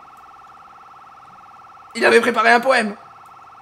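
A steady pulsing alarm rings continuously at a constant pitch, loud and unbroken, while someone briefly speaks over it.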